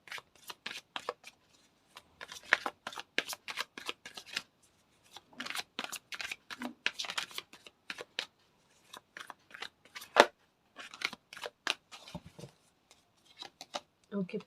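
Tarot cards are shuffled by hand, giving quick crisp riffling and flicking bursts in an irregular rhythm close to the listener, with a voice speaking intermittently.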